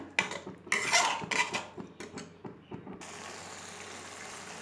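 Masala for a paneer dish for young children being stirred in a pan after water is added, giving a run of close metallic scrapes and clinks against the pan for about three seconds, then settling into a steady low simmering hiss.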